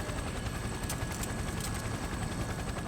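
A helicopter descending toward a rooftop in Persona 4 Arena Ultimax, its dense, steady rotor and engine roar filling the scene, loud and close with faint rhythmic beating and no voices.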